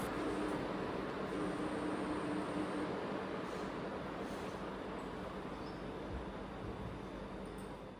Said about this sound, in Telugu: చూసారు కదా, ఫ్యాన్ ఆన్లో ఉంటే ఆ సౌండ్,